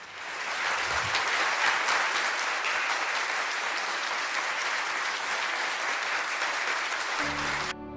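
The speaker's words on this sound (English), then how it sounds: "another round of applause for David Hatcher Childress" An audience gives a speaker a round of applause at a talk. The loud, dense clapping is sustained for several seconds and then cuts off abruptly near the end.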